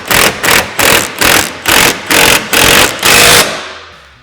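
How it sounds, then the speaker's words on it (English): An impact wrench drives a bolt while a flip-down glass windshield is installed on a Polaris General XP, giving eight loud, rapid bursts of hammering in a steady rhythm up close, with the last burst held longer before fading. "I'm just going to take my impact, still applying pressure,"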